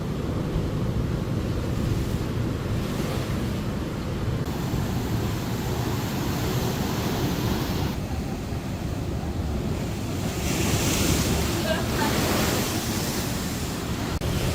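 Ocean waves break and splash against rocks along the coast at Ballito, a continuous loud wash of surf with wind noise and surges swelling toward the end.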